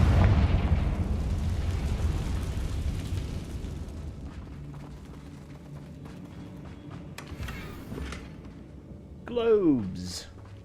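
In Hogwarts Legacy, a Confringo fire spell erupts in a booming blast with a rumbling roar that fades, followed by scattered clatter and a falling, whooshing magical sweep, all beneath a talking voice.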